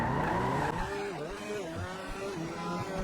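A Cheburek car racing in GTA 5 RP, its engine droning loudly as it revs and shifts through wavering pitches, with tires squealing, continuous and close, while a voice is faintly heard underneath.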